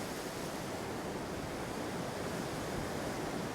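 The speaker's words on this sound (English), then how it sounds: "there's some very big waves coming" Big ocean waves crash against rocks at a rock-fishing spot, a steady wash of surf roar that is fairly faint and continuous, with no voices.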